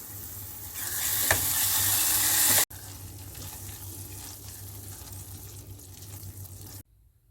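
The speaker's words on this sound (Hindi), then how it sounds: "इसमें सब्ज मिर्चें डाल देंगे, सब्ज धनिया, अदरक और मिक्स कर लेंगे।" Afghani keema stirred in a hot pan after green chillies, coriander and ginger go in, sizzling loudly with scraping stirs, then continuing more softly before cutting to silence.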